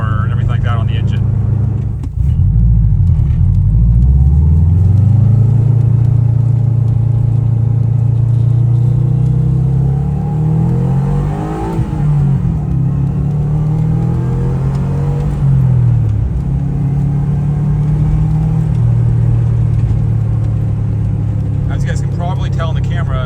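A Subaru RSTi with an EJ207 engine accelerates hard, its loud, close exhaust note climbing through the revs, dropping at shifts and rising again in repeated pulls, with a voice occasionally speaking over it.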